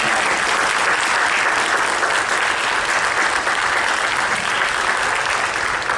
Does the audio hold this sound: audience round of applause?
yes